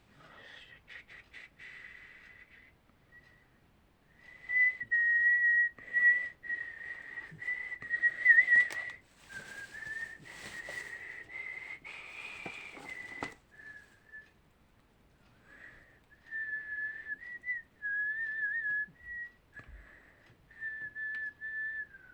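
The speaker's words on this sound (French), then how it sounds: "c'est pour ça que je siffle." A person whistles a wandering, thoughtful tune in several phrases separated by pauses, clear and fairly close, with faint rustling in between.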